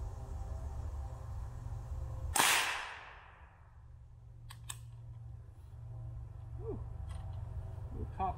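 A .22 long rifle shot and metallic pings of bullets striking AR500 steel target plates outdoors: one loud crack with a decaying tail, then a few faint distant taps and clinks.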